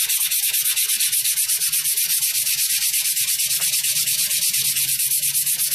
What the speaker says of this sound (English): I'm sanding and tilting, sanding and tilting